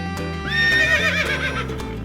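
A horse from a LEGO Friends Little Foal set whinnies loudly in a single drawn-out neigh that rises and wavers, set over a steady musical backdrop.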